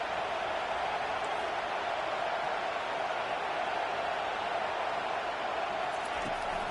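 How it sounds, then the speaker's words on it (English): Steady stadium crowd roar in a college football video game with Michigan, a constant dense wash of noise throughout with no clear peaks. "This crowd bringing the energy and noise early."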